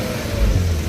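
An Infiniti Q50/Q60 Red Sport with a muffler delete rumbles in a short, deep, loud exhaust hum, heard close by from outside the car.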